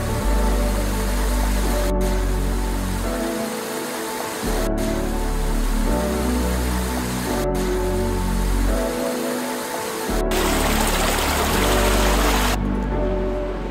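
Steady rushing roar of a high multi-tiered waterfall in the Great Ravine of Tasmania's Franklin River, loud and continuous, with a few sharp clicks breaking through.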